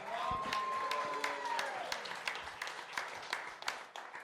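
An audience at a venture capital panel applauds warmly for a person, sustained crowd clapping with a brief sustained tone near the start and no voices over it.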